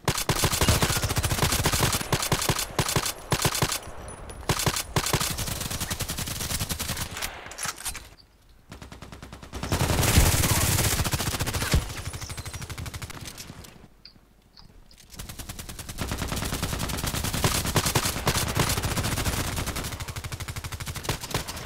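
Sustained automatic gunfire in the online shooter Contract Wars: loud, dense machine-gun bursts keep rattling almost nonstop, broken by a few brief pauses and quieter gaps before resuming at full intensity.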